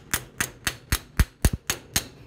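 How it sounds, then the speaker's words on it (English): A metal bracelet being hammered on a mandrel, eight sharp ringing taps in a steady rhythm about a quarter second apart, close and clear with no talk. "I'm holding on the back side as I hammer on the top side."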